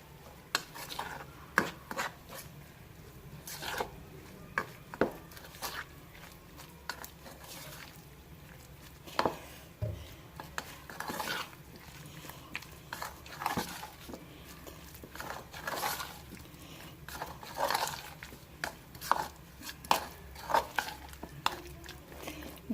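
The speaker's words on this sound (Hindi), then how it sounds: "पहले थोड़ा थोड़ा पानी करके जो है इसको मिक्स करूँगी मैं" Potato pakora batter is mixed by hand with water added bit by bit, producing soft wet squelching and rubbing with scattered bowl taps, quiet and close, without speech.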